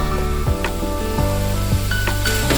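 Large tomatoes sautéing in a pan, a steady sizzle with a few sharp scrapes and knocks from stirring, close and fairly loud.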